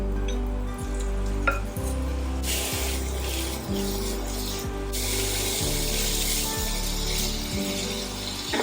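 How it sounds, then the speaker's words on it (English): Ground beef searing in a hot pan with onion and oil, a steady loud sizzle with periodic scraping and stirring strokes, no voices. "I'm gonna spread it out as much as possible so the meat can come in contact with the pan and sear"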